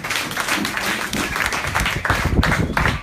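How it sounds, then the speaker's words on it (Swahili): Church congregation at a Sunday service applauding together, a dense, steady wash of clapping hands filling the room with no break, fairly loud and close throughout. "Nisikie makofi kwa ajili ya Bwana."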